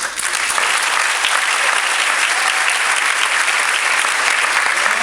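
Steady, dense applause from an audience at a school board of education meeting, loud and sustained without pause, with no voices standing out over it.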